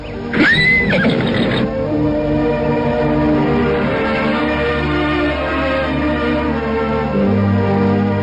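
A horse whinnies loudly and close at the start, then a steady rumbling wash of movement and background music carries on as the animal walks among rocks through water.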